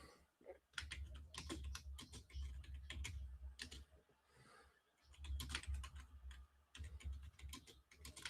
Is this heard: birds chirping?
no